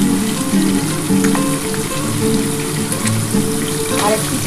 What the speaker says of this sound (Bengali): মাছটা একটু লাল করে ভাজবো